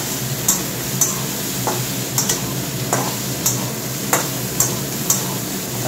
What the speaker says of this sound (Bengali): আলু ফুলকপিটা ভাজা হোক